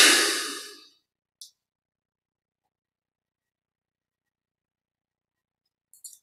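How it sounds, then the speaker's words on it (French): A long, deep exhalation through the nose during a yoga meditation session, close and breathy, fading out. Silence follows, broken by a couple of faint soft rustles. "On prend une grande inspiration par les narines."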